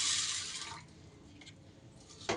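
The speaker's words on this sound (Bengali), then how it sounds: "এই ডালটাকে আমি ভালো করে জল দিয়ে ধুয়ে" Pea lentils are washed with water in a bowl, a short splash and slosh of water at the start that fades to a quiet rustle, then a brief splash near the end.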